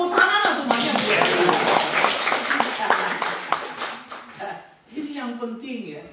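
Congregation at a CMC House of Joy church service clapping along in quick, steady rhythm, with a voice speaking or singing over the claps before they fade and talk continues alone.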